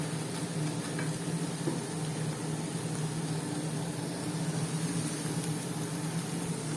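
Mushroom thoran dry-frying in a pan on low heat, a steady close sizzle and hiss with faint stirring, continuous and even throughout.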